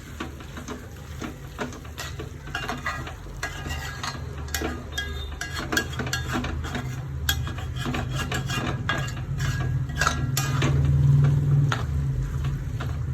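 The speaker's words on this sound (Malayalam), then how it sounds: "കുറച്ചുകൂടെ ഒന്ന് ഡാർക്ക് ആവണം, അതുവരെ ഇളക്കി കൊടുക്കാം" A spoon scrapes and rasps steadily through pineapple pulissery curry in a pan, a continuous close stirring that grows slightly louder toward the end, with no talk.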